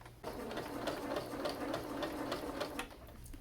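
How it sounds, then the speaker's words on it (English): An electric sewing machine stitches along the edge of a homemade Halloween pet costume, running as a steady, continuous close-up mechanical whir with a rapid needle patter from start to finish and no voices. "we start to sewing in the edge"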